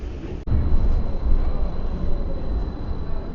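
An underground metro train in Vienna rumbles through Stephansplatz station with a loud, steady low roar and a sustained high whine, heard close up from start to finish.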